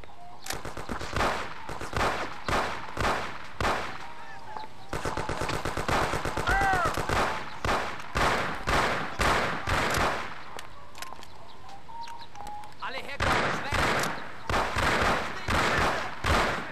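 Thompson submachine gun fire in the video game Mafia: repeated loud, close bursts of rapid automatic shots separated by brief gaps across the whole stretch, with a denser sustained volley near the middle.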